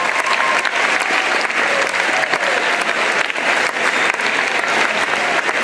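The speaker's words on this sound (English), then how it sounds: "one more round of applause." Sustained applause from a crowd at an honors breakfast, an even, continuous wash of many hands clapping, fairly loud and steady from start to finish.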